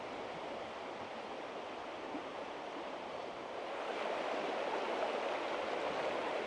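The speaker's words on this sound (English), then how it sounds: "The river looking semi-fierce there." A river in Wales runs high and fierce, a steady broadband rush of churning water that holds constant and grows slightly louder toward the end, with no voices.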